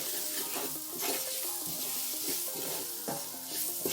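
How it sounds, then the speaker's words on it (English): Cumin and coriander sizzle in a soup pot as a spoon stirs them, close crackling frying with soft scraping strokes and no talk. "Give this a stir."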